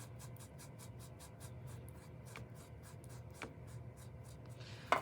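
A paintbrush lays blue paint onto paper in short, quiet, regular strokes, a soft brushing and scratching rhythm heard close up against a faint background hum.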